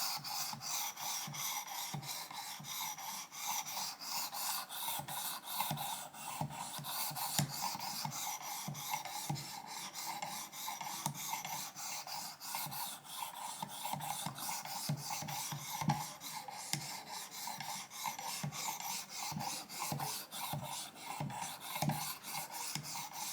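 A rusty single-bevel broadhead is drawn across a Work Sharp Precision Elite ceramic in quick, even rasping strokes, a soft scratchy rhythm repeating close up for over twenty seconds without talk.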